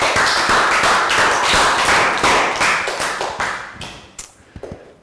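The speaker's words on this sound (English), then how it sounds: "Round of applause." Classroom applause, a dense burst of quick hand claps that thins out and fades to a few scattered claps by the end.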